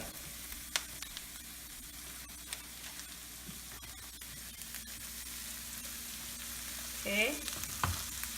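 Tuna omelette with spinach frying in a pan, basted with oil and butter, a soft steady sizzle with occasional utensil clicks and scrapes; a voice briefly speaks near the end.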